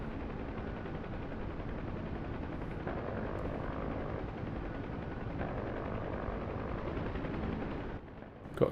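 Huey helicopter in DCS World combat: a steady, loud rotor and engine drone runs throughout, with gunfire folded into the dense roar, fading near the end.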